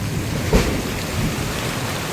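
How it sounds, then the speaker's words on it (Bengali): Heavy rain pours in a steady dense hiss on an open river char during a storm, with a short nearby thunder crack rising briefly above the downpour. "এর মধ্যে আবারও ঝুম বৃষ্টি আসলো, বজ্রপাত হচ্ছে এবারও"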